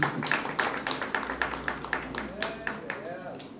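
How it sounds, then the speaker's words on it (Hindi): Audience clapping at a Lucknow press club seminar, a steady patter of many hands at moderate distance, with a faint voice rising in the background near the end. "जोरदार तालियों से स्वागत कीजिए प्लीज"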